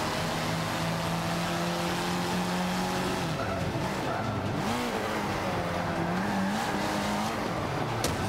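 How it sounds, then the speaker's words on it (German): In Forza Motorsport 5, a car drifts with a loud, sustained engine drone and squealing tires, the engine pitch wavering through the slide; faint talk sits underneath. "ein bisschen mit dem Wagen zu driften"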